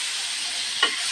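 Margarine sizzles steadily in a hot pan, a constant close hiss with one brief pop near the end.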